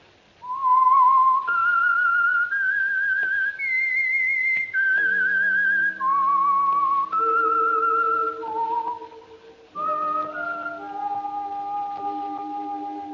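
The theme whistle of the radio drama The Whistler: a single clear, close whistled melody rising and falling over about thirteen seconds, briefly fading mid-phrase before resuming, with no voices.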